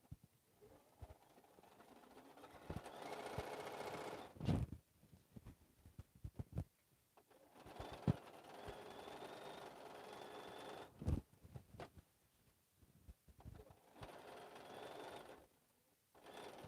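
Sewing machine stitching the seam of a fabric slouch bag, heard in several separate runs of steady mechanical whirring broken by pauses and clunks, moderately close.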